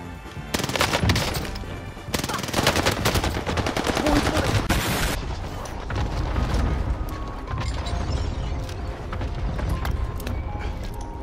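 Dense video game gunfire in a multiplayer shooter, rapid automatic bursts and heavy booms layered loudly, fading to scattered shots with a voice talking underneath.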